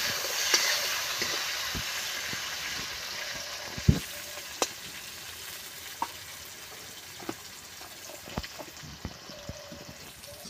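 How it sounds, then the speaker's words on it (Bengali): Potatoes sizzle steadily in a hot pan with turmeric and salt, a close, even hiss broken by sharp clicks and scrapes of stirring, with no talking. "এবারে আলুটা ভেজে নেব।"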